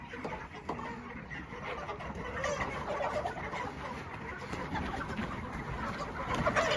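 Chickens gathering in a farm shed, a dense, continuous flock noise of clucking and scratching that stays loud and busy throughout with no break.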